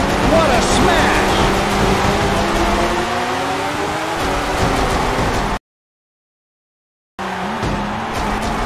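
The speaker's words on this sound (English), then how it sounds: "Just listen to the noise that car makes when it hits the wall" Race car in the Newman Haas Racing video game smashing into the wall, with loud engine whine and squealing tyres grinding against the barrier, followed by a brief gap of silence before the engine returns, under a commentator's voice.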